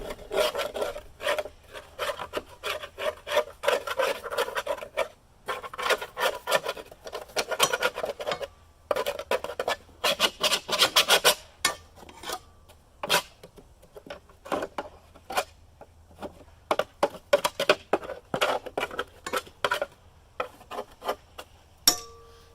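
Scraper rasping caked grass buildup from under a push lawnmower deck, a long run of close, irregular scratching bursts broken by brief pauses, with no talking.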